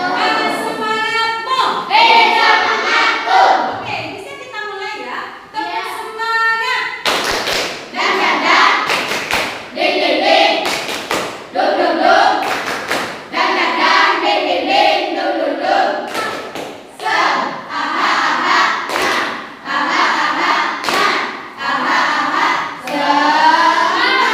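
Schoolchildren in a classroom perform the tepuk semangat clapping game, rhythmic bursts of group claps and thumps alternating with the children's chanted voices, loud and close throughout.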